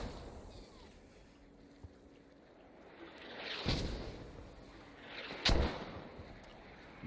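Mortar rounds land in a multiplayer war game, two distant booming impacts spaced a couple of seconds apart over a low, windy background.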